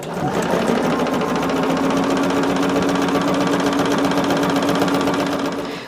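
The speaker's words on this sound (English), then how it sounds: "I guess it's called chain stitching or whatever, when you sew like things all at the same time" A sewing machine runs steadily and fast while chain stitching quilt pieces, an even mechanical whirring with rapid needle clatter that never pauses, close and loud.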